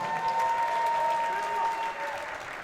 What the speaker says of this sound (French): Veuillez s'il vous plaît l'applaudir tout au long de son arrivée